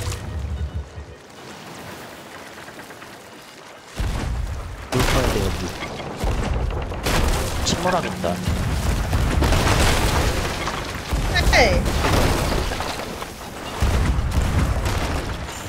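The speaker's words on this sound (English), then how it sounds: "Yeah, I'll get on the gun cannons," Ship cannons firing in the pirate game Sea of Thieves: several deep booms land a few seconds apart against constant game noise, while players talk and shout over them.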